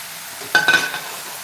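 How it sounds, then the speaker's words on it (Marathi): Okra sautéed in tomato masala in a pan, a short burst of sizzling and a couple of quick stirring scrapes between quieter moments. "आणि या मसाल्यामध्ये भेंडी चांगली परतून घ्या"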